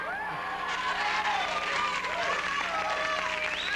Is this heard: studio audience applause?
yes